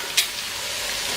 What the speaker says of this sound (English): Give them a good stir.